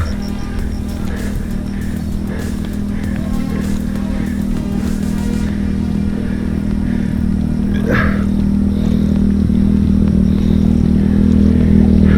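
A motorcycle runs nearby with a steady engine hum and some clattering over rough ground, growing slightly louder toward the end.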